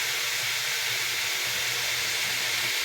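Thinly sliced onions fry in hot oil for biryani, a steady, close sizzling hiss that runs evenly throughout the short stretch.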